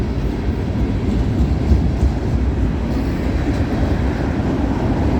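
CN freight train rolling past at milepost 2 on the Dundas Subdivision, a steady loud low rumble of cars with constant rail noise throughout, no voices.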